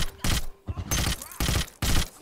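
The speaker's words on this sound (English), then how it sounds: "let me just empty the rest of my mag" Rapid automatic gunfire in a Hitman video game as a magazine is emptied, three or four loud, close bursts separated by brief gaps, harsh and cracking, with no talk over it.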